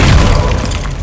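Confringo fire spell exploding in the video game Hogwarts Legacy, a single loud, close, booming burst with a deep rumbling body that fades slightly over a second.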